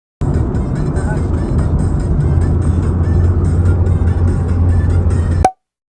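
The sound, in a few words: cars passing on a road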